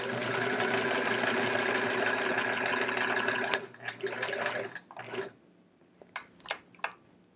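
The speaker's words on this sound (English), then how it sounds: "We're still sewing." A domestic sewing machine stitches the binding on a sampler quilt, whirring steadily and close for about three and a half seconds, then stopping and starting in short bursts, followed by a few sharp clicks and taps.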